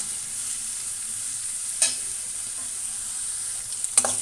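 Onions and grated carrot fry in a pan with a steady, moderate sizzle, broken by two sharp spatula scrapes against the pan partway through and near the end.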